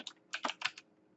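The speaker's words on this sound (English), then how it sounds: "We're going to first start off with typing" Quick, light keystrokes on a computer keyboard, about six clicks in an uneven burst followed by one more key, crisp and close, with no one talking.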